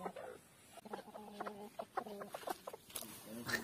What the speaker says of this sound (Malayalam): തീറ്റൊക്കെ കണ്ടപ്പോൾ ഒരു ചേവൽ ഇതിൻ്റെ ഇടയ്ക്ക് കയറി കൂടിയിട്ടുണ്ട്